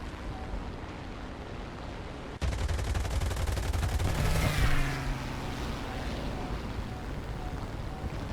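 Rapid gunfire from a Bf 109 F-4 fighter in the War Thunder flight game, a dense burst of rattling shots starting abruptly and continuing over a loud, steady engine roar, with no talk.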